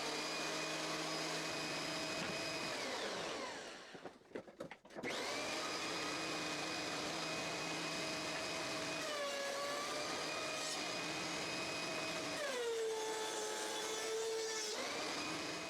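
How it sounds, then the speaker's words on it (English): A thickness planer surfaces the face of a wooden board, a loud steady machine roar with a brief dip partway through as the board feeds or clears, then the droning whine resumes with shifting pitch as cutting continues. "On the planer I get the opposite face parallel to the jointed face."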